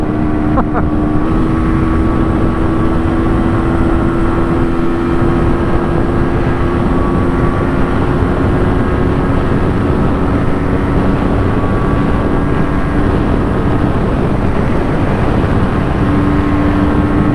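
An MZ motorcycle engine strains flat out while climbing a hill at about 40 mph, a steady loud droning buzz with a labouring tone that holds unbroken throughout, mixed with constant wind rush.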